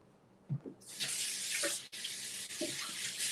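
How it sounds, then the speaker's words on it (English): Water runs steadily from a kitchen tap as hands are washed under it, the stream starting abruptly and continuing close and fairly loud, with a brief interruption midway. "I'm just gonna wash my hands again."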